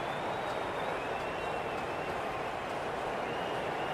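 A dense, continuous roar of crowd noise with faint applause from a cricket video game, a Big Bash match between Sydney Thunder and Hobart Hurricanes, steady and loud throughout with no clear speech.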